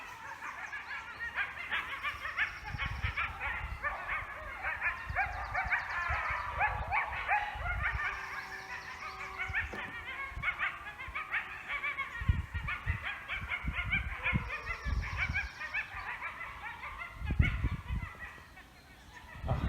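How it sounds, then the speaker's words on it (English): A pack of coyotes howls, yips and barks excitedly at a mountain lion enclosure, a long chorus of overlapping high wavering calls with scattered thumps, rising to a burst near the end. "I'll just be quiet for a moment so you guys can enjoy some howling."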